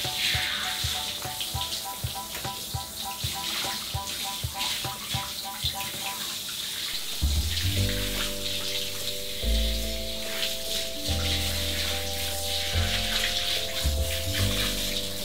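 Shower water runs steadily over a whippet being washed with shampoo and conditioner, a constant spraying hiss heard under a melodic musical backing.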